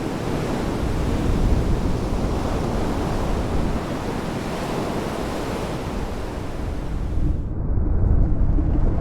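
Ocean surf surging against rocks on the Galapagos Islands, a loud, continuous roar of churning water with wind, swelling and easing without any voices.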